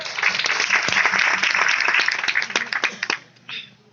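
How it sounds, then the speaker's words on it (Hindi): Loud applause from an audience rises at once as a dense burst of clapping, then breaks into a few scattered claps before fading out near the end. "अरे क्या बात है, जोरदार तालियां आपके लिए।"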